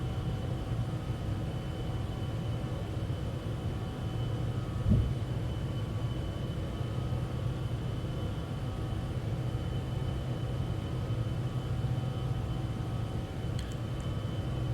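A Citation X business jet climbing after takeoff in a flight simulator, a steady broadband engine roar with a sustained low hum and faint tonal whine, continuous and unchanging, with one soft thump partway through.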